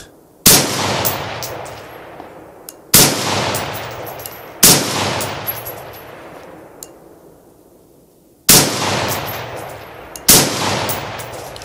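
Rifle shots fired while zeroing a Tactacam 5.0 scope camera at an outdoor range: five loud, sharp reports spaced several seconds apart, each with a long ringing decay, no talking.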